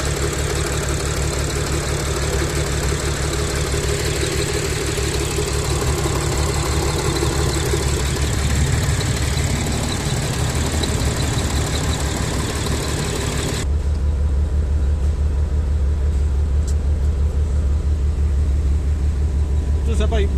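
An Audi V6 engine with a suspected intake air leak, misfire or injector fault idles loudly and continuously, a steady rumble that shifts in tone partway through, with voices faintly underneath.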